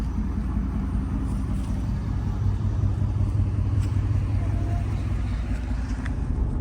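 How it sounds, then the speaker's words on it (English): A Baja-style off-road truck rumbles along with a low, continuous engine drone and road noise from inside the cab, steady and fairly loud. "This is like a Baja truck"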